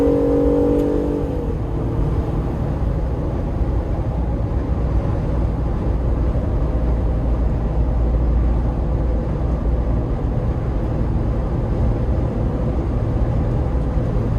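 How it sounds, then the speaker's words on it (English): Cabin sound of a 2025 Jeep Wrangler Rubicon AEV with a V6 and a lift, driving down the road: a constant low engine drone and road rumble, steady and loud throughout, with a brief tonal whine at the start. "you can kind of hear the sound acoustics here as I'm driving down the road"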